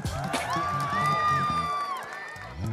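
Concert crowd at an outdoor Pride celebration in Tundikhel, Kathmandu, cheering and clapping in a continuous roar, with whoops and a sustained shout rising over the noise.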